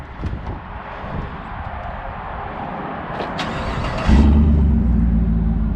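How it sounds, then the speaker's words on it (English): A GMC Sierra pickup truck engine starts up by remote start, not from cold, and settles into a deep, steady exhaust rumble that stays loud and close. "at least you can hear the exhaust on it"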